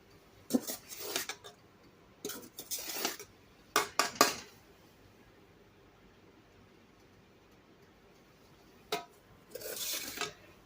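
Soda ash mixture stirred vigorously in a metal pot at home: several bursts of scraping, clattering utensil strokes separated by quiet pauses, close and fairly loud, with no talking.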